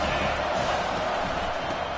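A dense, loud roar from a stadium crowd at a college football game between South Carolina and Miami, cheering continuously and evenly throughout with no break.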